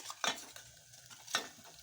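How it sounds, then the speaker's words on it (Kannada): Spoon scraping and stirring potatoes in a frying pan, two clear clattering strokes with faint sizzle between them, close up and without talk. "ಬಟಾಟೆ ಹಾಕ್ತೀನಿ"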